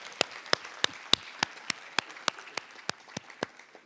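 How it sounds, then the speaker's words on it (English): Audience at a poetry event clapping in sharp, evenly spaced claps, about a dozen distinct slaps over a few seconds, fairly close and without talk, more like rhythmic clapping than a full ovation. "Please, let's give her another round of applause."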